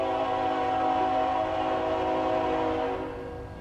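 A train passes in the American Truck Simulator video game, a steady loud rumble with sustained horn-like tones that fades toward the end, heard alone without talk.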